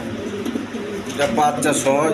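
Spanish pouter pigeons with two squabs coo in a dark loft, brief throaty calls rising near the end while someone talks over them.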